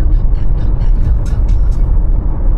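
A car drives along the road toward Maithon after a breakfast stop at Shaktigarh, its steady low rumble of engine and tyres continuous and fairly loud, with faint higher hiss from passing traffic.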